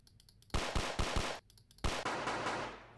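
Loud bursts of automatic gunfire from the Android battle royale game Last Stickman, two rapid volleys of close shots separated by a brief pause, with a ringing tail.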